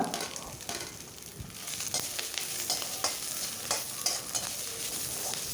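Chopped shallots hiss and sizzle in hot oil with garlic and curry leaves, a steady close frying crackle broken by a few scraping stirs of a spoon against the pan, with no voices.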